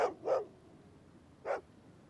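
A dog gives three short barks, two close together and one after a pause, fairly near against a quiet background.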